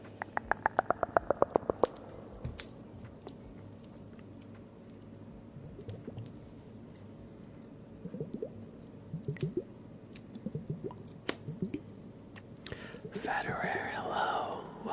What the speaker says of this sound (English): Let's do some water sounds for Cordy B.